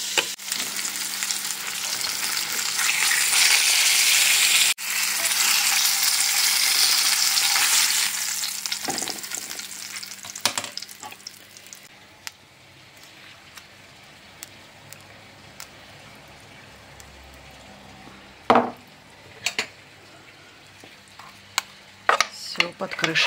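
Fish cooking in cream in a pan hisses and sizzles loudly at first, then settles into quieter bubbling, broken by clinks and scraping stirs of a utensil against the pan.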